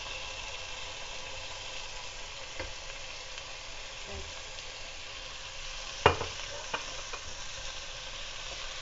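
Onion, tomato and cilantro are stirred in a pot for a bean soup, giving a faint, steady low sizzle with a few soft scraping clinks of the spoon partway through.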